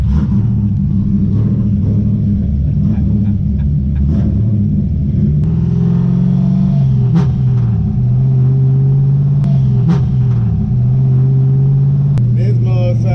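A loud, deep 700 hp Toyota Supra engine rumbles steadily, its pitch rising and falling as it revs, with sharp clicks and a voice talking over it.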